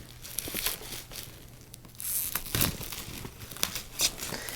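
Crinkly material is wrapped around a toy figure, giving continuous close crumpling and crackling with bursts of louder rustles, with no talking.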